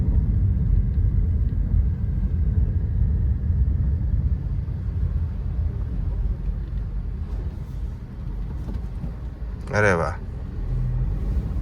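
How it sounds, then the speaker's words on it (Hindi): Maruti Suzuki Ignis driving at highway speed, with steady low road and engine rumble that eases as the car slows and shifts gear, while a voice talks over it inside the cabin. "रुकना नहीं पड़ा है ज़्यादा, बस स्पीड कम हुई है, गियर चेंज हुआ है।"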